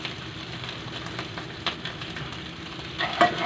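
Shallots stir-fry in a pan for a Thai pork belly curry, making a steady low sizzle with a few light stirring scrapes, a louder clatter near the end, and no talking.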